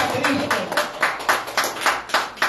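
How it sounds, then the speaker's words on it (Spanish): A church congregation claps in a steady, fairly fast rhythm of many hands that fills the room, loud and close, with a voice speaking over the applause. "Demos aplausos fuertes a Cristo."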